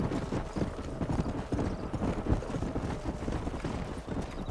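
Horse hooves clip-clopping in a fast, continuous gallop in the video game Red Dead Redemption, loud and close, with a rumbling low background and no talking.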